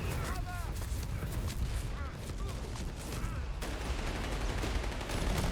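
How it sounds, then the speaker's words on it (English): An artillery barrage in the video game Company of Heroes 3 lands as a dense run of shell impacts and gunfire, a busy, rumbling battle din heard under a caster's talk. "Barrage coming in though."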